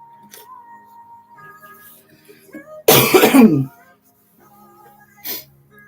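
An older woman's single loud, harsh cough bursts close to the mic, preceded by quiet murmuring and followed by a short breathy sound.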